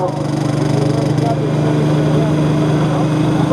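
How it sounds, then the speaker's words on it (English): The engine of a John Deere 7710 pro stock tractor in a 10,000 lb class at a tractor pull in Selinsgrove holds a loud, steady, droning roar with a deep, constant hum throughout. "the third Deere, John Deere 7710. HOYT sounded like the normal Deere we know"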